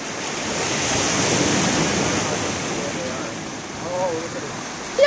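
Ocean waves wash onto the shore at Maui, Hawaii, a steady broadband surf roar with some wind on the microphone, and voices in the background near the end.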